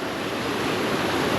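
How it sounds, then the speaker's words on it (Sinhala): Strong flowing stream water near a tree nature resort in Badulla, a loud continuous broadband rush with no breaks or voices. "පේන විදියට වතුර පාරන ටිකක් සැරයි වගේ හැබැයි ලස්සනයි"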